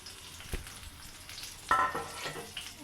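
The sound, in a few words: chopped onion and garlic frying in hot oil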